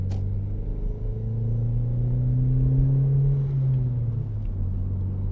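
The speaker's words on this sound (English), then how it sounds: "it gives you plenty of time to enjoy that turbo" An Audi TT's turbocharged engine accelerating, heard from inside as a loud, steady rumble whose tone rises through a gear, then dips briefly before climbing again, with no talking.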